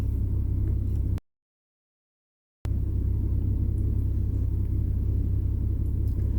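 A car engine idles steadily with a constant low rumble, close and even, while a technician reads live transmission oil temperature data with an Xtool IP508S OBDII scanner; the sound cuts out briefly partway through.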